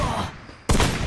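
Sniper gunfire in the Free Fire video game: a single sharp, loud shot bursts in after a quieter stretch of game ambience.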